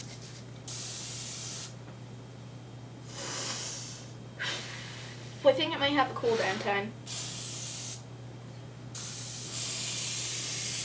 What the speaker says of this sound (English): I'm going to try and reach the spray, and I'm going to spray it!